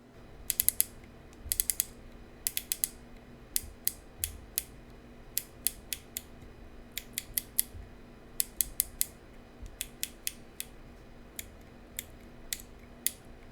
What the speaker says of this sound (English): actually have to put a decent amount of finger power into moving the dial of the TDC